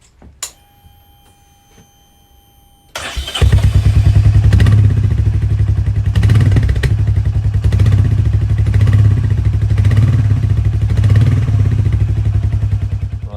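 Royal Enfield Meteor 350 motorcycle with its stock silencer starts after a few quiet seconds of faint clicks, then settles into a loud, steady single-cylinder idle thumping close by, alone without talk.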